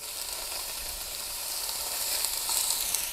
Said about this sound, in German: Jetzt werden wir aber erstmal schön das Fleisch anbraten. Mein Dutch Oven ist heiß